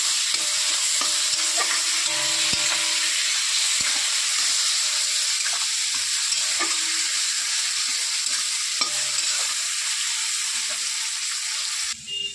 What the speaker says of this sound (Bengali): তারপরে দিয়ে দেব টমেটো কুচি কয়েকটা, এগুলো সব দিয়ে দিলাম। নাড়াচাড়া করে নেব